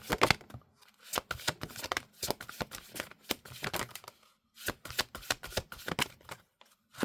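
Tarot cards being handled and drawn, a run of quick, close papery flicks and slaps in irregular bursts with brief pauses between them.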